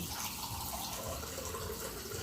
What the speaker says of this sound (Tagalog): bali 7 cup din na tubig ang ating ilagay